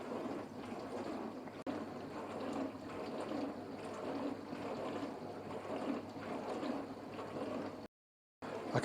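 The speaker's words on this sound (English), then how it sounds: "So you can see how strong this sprinkler is." Spray arm of a Cookology CMDW2 countertop dishwasher spraying water inside the tub, a steady faint hissing wash that cuts out briefly near the end.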